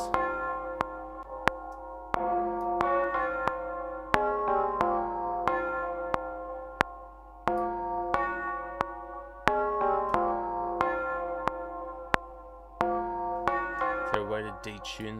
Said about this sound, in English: Is there a way to detune the bell just a bit less?